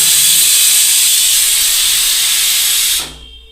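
A pressure cooker on a gas stove, cooking rice, releases steam in a loud, continuous close hiss that cuts off sharply after about three seconds, leaving near silence.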